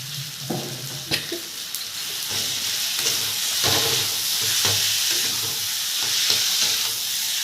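Potatoes fry in a pan with a steady, close sizzle and hiss, broken by irregular knocks and scrapes as they are stirred.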